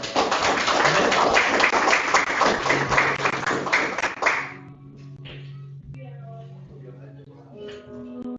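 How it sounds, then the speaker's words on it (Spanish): A church congregation claps loudly in praise for several seconds, a dense burst of applause that ends abruptly, leaving quiet sustained organ or keyboard tones underneath. "¿Por qué no da un fuerte aplauso al Señor?"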